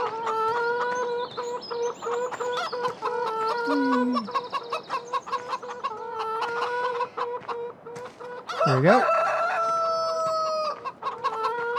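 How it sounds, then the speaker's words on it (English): Chickens in a farm video game cluck and crow repeatedly, with several overlapping bird calls and one loud rising squawk near the end, plus a brief spoken remark. "Quiet chickens, all of you"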